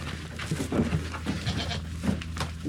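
Several goats bleat close by on a ranch at feeding time, short overlapping calls repeating over a steady barnyard background.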